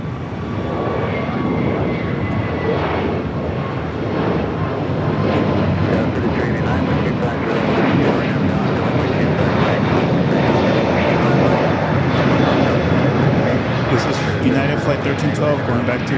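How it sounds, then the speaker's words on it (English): A Delta airliner arrives at LAX from Cabo: a loud, steady jet roar fills the whole stretch, with faint voices underneath. "It's Delta flight coming in from Cabo."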